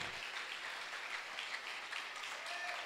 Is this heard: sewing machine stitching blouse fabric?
no